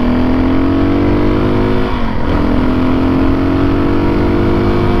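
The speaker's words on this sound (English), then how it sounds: "Hard acceleration. Hesitate, hesitate." A dirt bike engine, either a Kawasaki KLX300 or Suzuki DRZ400S, revs under hard acceleration on a trail, loud and close, its pitch climbing then dipping briefly mid-run before rising again as it hesitates.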